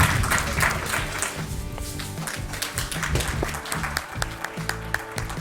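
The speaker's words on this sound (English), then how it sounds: "Can we have a round of applause for Dr. Virender Singh Sangwan, please?" Audience clapping at a medical awards ceremony honoring doctors, a sustained round of applause over loud background music with a steady beat.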